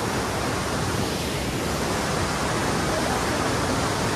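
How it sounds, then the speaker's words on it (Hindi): A waterfall near Manali, in a spot with a small bridge over it, rushes in a loud, steady, broadband roar that fills the whole stretch without a break. "पहुंच चुके हैं एक बहुत ही सुंदर वाटरफॉल पे। सो आपको आवाज़ तो आ रही होगी पानी की"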